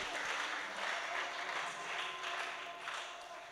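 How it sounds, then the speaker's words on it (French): A church congregation applauds in praise, producing sustained, dense clapping in rolling waves that stays fairly even throughout, with faint voices mixed in. "On applaudit pour la gloire de l'Éternel."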